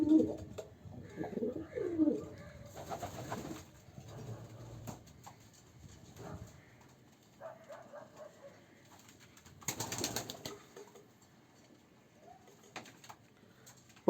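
Pet pigeons cooing in a loft, soft low burbling coos repeating in uneven bursts with scattered wing flutters and shuffling, fairly faint and close, no talk.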